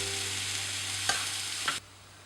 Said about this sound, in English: Now we will have to saute these onions for about 10 minutes until they turn translucent.